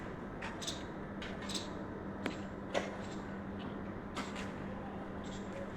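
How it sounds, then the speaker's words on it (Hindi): A squirrel calls from a tree close by, giving short, sharp chirps in small irregular clusters over a low steady background hum, fairly faint and with no voices. "देखा, गिलहरी की आवाज़ है,"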